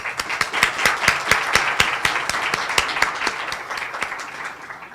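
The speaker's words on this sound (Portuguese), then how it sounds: "salva de palmas para o professor Adriano" An audience at a lecture on the Austrian School of economics gives a steady round of applause, dense clapping from many hands that holds for several seconds and tapers slightly at the end, with no talking over it.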